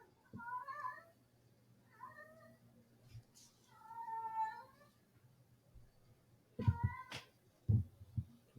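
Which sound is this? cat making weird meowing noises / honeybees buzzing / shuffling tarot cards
cat making weird meowing noises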